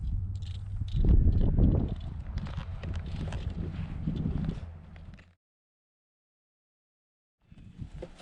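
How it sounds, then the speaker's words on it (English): Horse hooves clip-clop in an uneven walking rhythm outdoors with wind noise, fading out into silence before faint steps return near the end. "Bringing our horse back."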